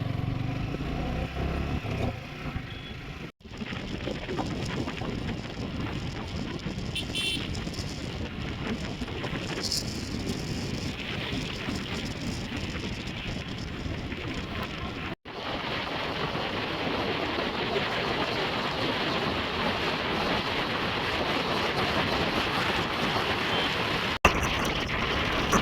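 Steady riding noise from a Yamaha R15 V4 motorcycle on the road, a continuous engine drone blended with heavy wind rush past the microphone, unbroken for the whole stretch apart from a couple of brief dropouts.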